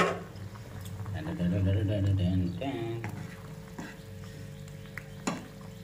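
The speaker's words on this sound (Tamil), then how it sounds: "நல்லா கொதிக்குது" A pot of chicken curry bubbles and simmers steadily, with soft gurgling and a faint low hum beneath. Occasional light clinks rise above the boil.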